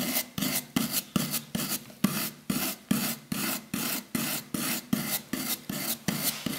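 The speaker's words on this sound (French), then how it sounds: "vous pouvez utiliser une petite brosse bijou de façon à venir sortir toute la matière à décaper en fond d'angle" A small jewelry brush scrubs paint stripper off a sculpture in brisk, regular back-and-forth strokes, about two per second. Each stroke gives a close, loud scratchy rasp with no other sound.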